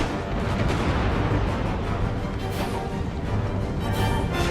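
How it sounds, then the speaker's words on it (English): Shrapnel artillery firing in Empire: Total War during the Battle of Camden, USA versus Great Britain, a loud dense rumble of booming cannon blasts and battle noise, sustained without talking. "I ordered the shrapnel to fire that way."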